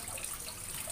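Running water rinses a katla fish head and gills in a brief, steady splashing stream close by, with no talking.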